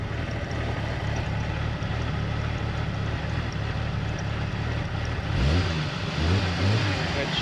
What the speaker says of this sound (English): there's a little bit of uneven fire, just the tiniest bit of uneven firing